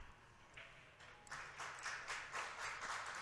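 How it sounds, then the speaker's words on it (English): Audience applause at a women's pool tournament, a soft scattered patter of clapping that swells and continues in bursts in the background. "if you can hear the clapping in the background"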